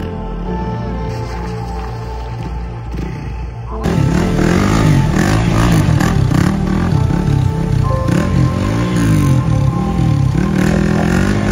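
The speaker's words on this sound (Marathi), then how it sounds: "फायनल डिसिजन घेतलेला आहे की आपण बाईक रिव्हर मध्ये घेऊन चाललोय" An off-road-tyred motorbike rides into a river near Kalu Waterfall, its engine running steadily and growing louder, with clattering and splashing through the second half.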